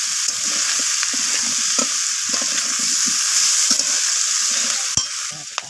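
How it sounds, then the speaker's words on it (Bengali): Vegetables fry in a pan with red chili powder and cumin powder for a Bengali Malabar spinach and bhetki fish-head chorchori, giving a steady close sizzle broken by soft knocks and scrapes of stirring. "তো সমস্ত কিছু মশলা নাড়াচাড়া করে আমি ভেজে নিচ্ছি সবজিগুলোর সাথে।"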